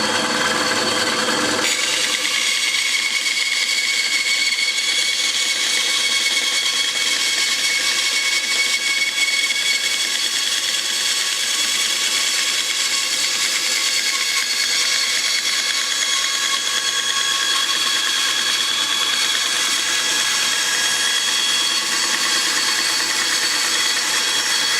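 A power tool fitted with a new blade works on a wooden skull carving, a loud steady grinding and rasping that starts abruptly and continues without pause, close and uninterrupted.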